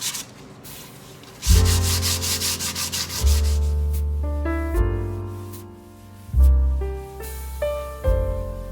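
Folded sandpaper rubbed by hand along the wooden leg of a nightstand, a rhythmic run of scratchy back-and-forth strokes, close and fairly loud, with steady tonal background music throughout.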